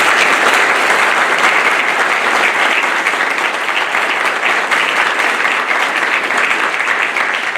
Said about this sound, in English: please join me in a warm round of applause for Chief Machinist Mate Surface Warfare Air Warfare Qualified Adam Sanchez